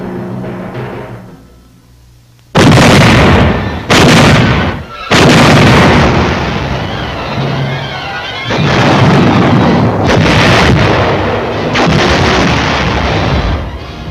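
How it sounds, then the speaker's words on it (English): Artillery in WWII New Guinea firing at a small offshore island: after a quiet moment, several loud, heavy booms land in quick succession, followed by sustained rolling blasts and rumbling. "then secured a small island offshore and placed our artillery and commenced firing at"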